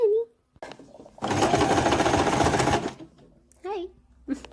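Sewing machine stitching in one loud, steady burst of about two seconds, close up, between short stretches of someone speaking.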